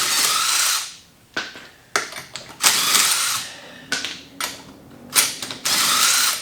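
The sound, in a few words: ratchet removing wheel lug nuts on a car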